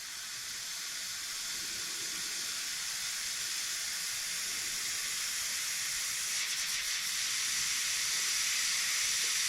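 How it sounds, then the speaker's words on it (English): A homemade steam apparatus releasing a continuous bright hiss of steam, steady and fairly close, gradually growing slightly louder throughout, with no speech. "We're starting to get some steam."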